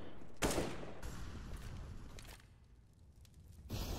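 Gunfire in a Counter-Strike: Global Offensive esports match between MIBR and Axolotls, with sharp bursts of shots at the start and end and quieter in-game rumble and movement between them.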